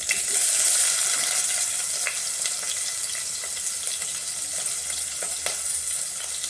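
Onion fries in a pan for a festive khichdi, giving a steady, even sizzle with small pops and crackles throughout and no talk.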